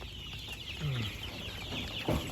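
Rudd Ranger chickens cluck softly nearby in a barn against a steady background hum, with a couple of brief low clucks standing out.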